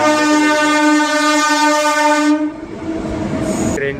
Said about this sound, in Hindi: ट्रेन निकले जा रही है यहाँ पे